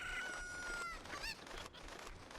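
Cuckoos, the chicken-like birds of the video game Ocarina of Time, cluck and squawk in a few quick bursts, fairly faint, over a steady background hum.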